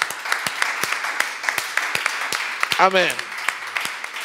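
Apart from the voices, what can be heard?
congregation applauding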